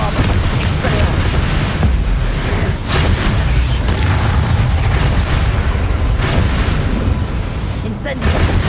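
Bombarda spell explosions in the video game Hogwarts Legacy form a loud, dense rumble of booms and blasts that runs continuously through heavy combat.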